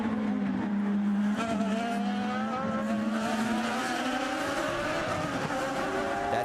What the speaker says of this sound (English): For Tony, actually, it's a passing car of EJ Viso